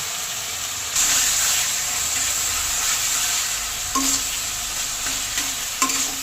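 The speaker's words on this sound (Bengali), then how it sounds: "এবার ভালো করে সব মশলা মিশিয়ে নেব।" Cumin, coriander and chilli powder being stirred with turmeric in a frying pan, a steady hiss and sizzle with a few sharper scraping knocks of the spoon against the pan, close and alone without talk.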